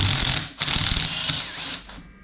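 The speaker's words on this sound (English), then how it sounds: "9 8mm bolts. I don't know how hard these are to take off, but let's see if this can do the trick." A ratchet works on 8mm bolts on a Ford Escape PTU, giving close mechanical clicking and whirring in short bursts that fade toward the end, with no talking.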